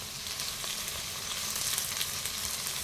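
Tofu fries in a pan with garlic and onion, giving off a steady, close sizzle that holds even throughout with no one speaking.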